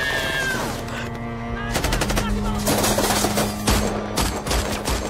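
Rapid machine-gun bursts in a battle against Taliban fighters in the film The Covenant, loud volleys hammering in quick succession over a low sustained musical drone, with sharp separate shots cutting through.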